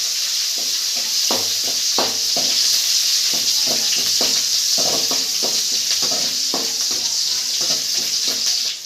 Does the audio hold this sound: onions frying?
yes